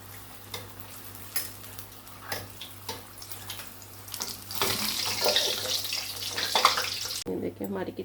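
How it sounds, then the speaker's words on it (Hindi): Kachori drops into hot oil in a kadai and starts to sizzle, a steady bubbling hiss that swells and holds after a few faint kitchen clicks. "कढ़ाई में हमने ऑयल ले लिया, हमारा ऑयल हो गया गरम। अब हम इसमें ऐड करेंगे अपनी कचौरी"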